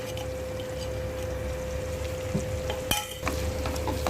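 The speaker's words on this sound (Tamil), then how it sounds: "ஆட் பண்ணி நம்ம நல்லா அந்த இஞ்சி பூண்டு விழுதோட பச்சை வாசனை போகிற அளவுக்கு நல்லா வதக்கிக்கலாம்." Onions with ginger garlic paste sauté in a pan for beetroot rice, giving a continuous low sizzle, a sharp scraping stir clatter partway through, and a steady hum underneath, with no talking.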